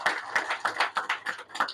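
Applause for a tribute at a ceremony, a quick run of light, sharp claps in a steady fast rhythm, fairly close and thin, as from a small group.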